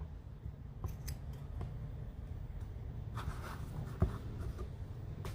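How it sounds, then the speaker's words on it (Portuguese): Scissors cut steadily around a design drawn on fabric for a macramé piece, a close, continuous crunching snip with a few sharper clicks and soft handling noises. "aqui eu quero cortar ao redor desse desenho"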